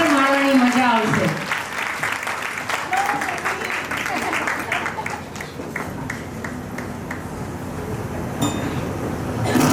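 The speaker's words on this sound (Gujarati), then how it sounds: "તમારી તાળીઓ ચાલુ રહે" Audience applause at a women's Saheli Group gathering, crowd clapping that runs on under voices and a brief musical tone at the start, thinning and swelling again toward the end.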